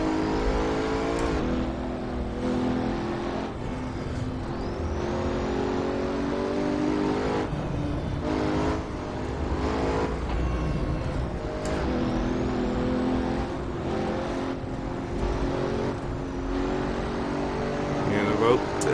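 Pagani Huayra engine driven in Assetto Corsa on the Nordschleife with traction control on, a steady loud engine drone with rising and falling revs through gear changes, running throughout under a voice.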